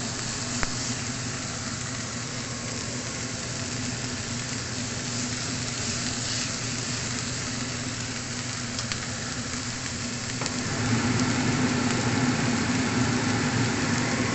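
Onion and garlic sautéing in a little oil in a pan, a steady close sizzle that continues unbroken and grows slightly louder toward the end.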